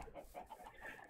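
Chickens on a Minecraft chicken farm cluck softly in a short, faint run of low, bubbling calls.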